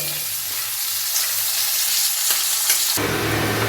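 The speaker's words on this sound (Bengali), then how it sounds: "এই তেলের মধ্যে দিয়ে দিলাম পেঁয়াজটা আমাকে একটু ভালো করে সুন্দর করে ভেজে নিতে হবে" Loud, steady sizzling of onion frying in hot oil, close up, with a brief stirring scrape near the end.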